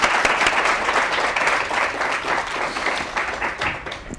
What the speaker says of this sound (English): maybe just give yourselves a round of applause for making it this far in psychology